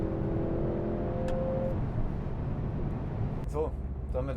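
A Mercedes-AMG C63 with a four-cylinder engine drives along, its engine drone and road noise steady inside the cabin while people talk throughout.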